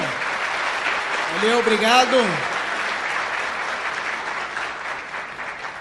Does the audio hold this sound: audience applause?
yes